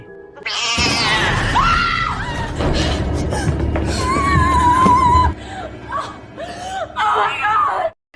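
A cat screeches and yowls loudly up close in a long run of harsh, wavering cries, ending with shorter sharp wails before cutting off.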